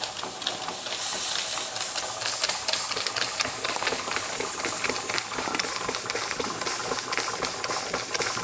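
A Stuart model beam engine running on live steam from a gas burner, a steady close chuffing and mechanical ticking with a fast even rhythm over a constant hiss, no voices.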